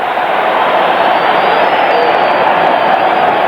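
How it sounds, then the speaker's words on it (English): A dense stadium crowd roars in a steady, loud ovation at a Dallas Cowboys football game, the broad wash of cheering holding evenly from start to finish. "Listen to the ovation."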